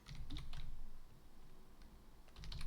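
Someone typing a short command on a computer keyboard under Linux Mint, with bursts of close, crisp key clicks separated by a quieter pause.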